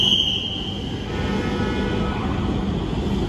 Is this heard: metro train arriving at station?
yes